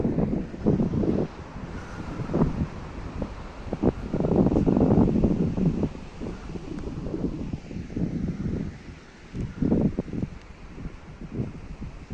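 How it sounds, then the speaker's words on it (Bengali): Surf washing ashore at Henry Island beach near Bakkhali in West Bengal, a steady broadband roar with repeated swelling breaks, heavily buffeted by wind across the microphone. "সমুদ্রে ঢেউয়ের আওয়াজ শুনুন।"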